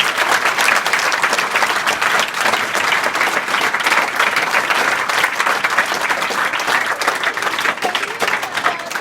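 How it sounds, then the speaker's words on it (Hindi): Sustained applause from a crowd of school students fills a hall at Shri Durga Ji Madhyamik Vidyalaya, Dayalpur, a steady dense clapping that holds at an even loudness for several seconds, with no voices over it. "तो नहीं लगा तो एक और ताली बजाओ फिर।"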